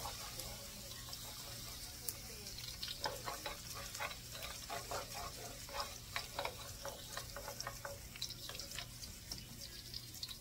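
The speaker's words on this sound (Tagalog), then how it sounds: "Magigisa na po ako ng bawang." Garlic sautéing in hot cooking oil, a steady close sizzle with bursts of crackling and spattering that rise and fall through the middle, over a constant low hum, with no talking.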